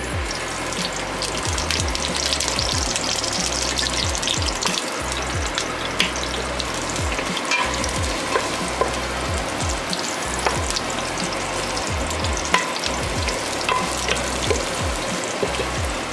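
Garlic sautés in a pan for binakol, a loud continuous sizzle with small pops and occasional stirring, close and without talk.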